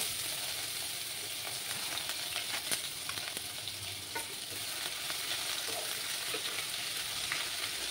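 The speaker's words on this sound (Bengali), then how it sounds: "এবার আমি গ্রেট করে রাখা আদা কুচিগুলো দিয়ে দিচ্ছি।" Grated ginger frying in hot oil for a Bengali kachu shak dish, a steady close sizzle with scraping stirs and light clicks of a utensil throughout, no voices.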